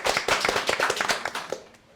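Scattered hand clapping from a small group during a Sundanese stand-up comedy podcast show in Indramayu, a couple of seconds of brisk, uneven claps that thin out and fade toward the end.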